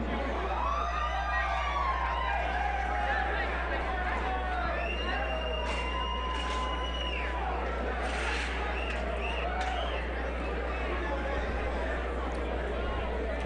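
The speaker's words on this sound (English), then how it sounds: "Big crowd here for Jason" Crowd noise at an MMA fight in Columbia, SC, a steady wash of chatter, shouts and occasional whoops filling the venue, with an announcer's voice over the crowd throughout.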